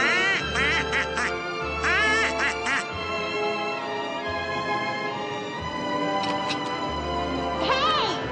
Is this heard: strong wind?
no